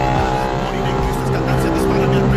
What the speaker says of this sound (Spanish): Después de esa moto pedorra que acaba de pasar